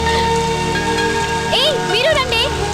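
Steady rain pours down in a dense, even hiss throughout, while voices speak over it.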